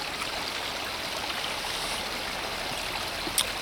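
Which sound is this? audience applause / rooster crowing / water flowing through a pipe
water flowing through a pipe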